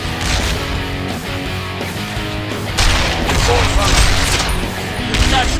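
Gunfire in the video game Heroes of Newerth, dense rapid shots and crackling bursts in a continuous loud fusillade, with game voices and battle noise mixed in.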